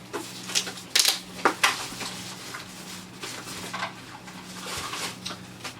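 Plastic clicks, taps and rustles from a new keyboard being lifted out of its case, a few sharp knocks near the start followed by softer handling noises over a steady low hum.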